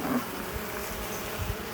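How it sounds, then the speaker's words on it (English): Honeybees at a hive in July drought crawl over spilled syrup, a dense close buzzing hum holding steady throughout without voices. "That is one sticky mess of bees."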